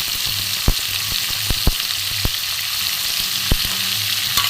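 Green peas with cauliflower and potatoes fry in a pan with a steady, close hiss of sizzling oil, broken by a few sharp clicks from stirring.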